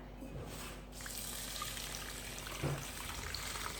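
Drinking water poured onto uncooked rice in a pot to rinse it, a soft steady splashing stream close by with a small gurgle near the end, with no talk.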